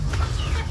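Native chickens in a small range-net enclosure with a nipa-style hut on a backyard farm, clucking close by in short overlapping bursts over a steady low hum.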